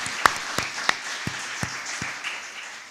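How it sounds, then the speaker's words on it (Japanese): Sparse claps from a church congregation during a Sunday service, a handful of separate sharp hand claps spaced irregularly over a quiet room. The clapping is fairly faint, with no sustained ovation. "김명 사모님께 큰 박수로 보답합시다"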